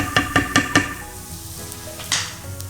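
Caramelized onions cook in a pan for a peach barbecue sauce, with four quick utensil clacks against the pan at first, then a soft low sizzle and a couple more faint scrapes.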